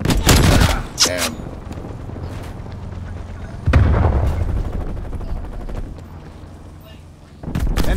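Gunfire in Call of Duty: Black Ops Cold War multiplayer, with loud booming sniper-like shots separated by quieter stretches of game noise, and a few sharp reports near the start and end.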